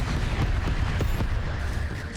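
Explosions in the space game Starcom rumble as a thick, continuous low roar with a few sharper booms near the middle, loud and without talk.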